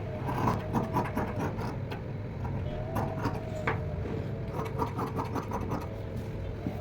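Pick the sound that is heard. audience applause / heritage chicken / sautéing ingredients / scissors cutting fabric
scissors cutting fabric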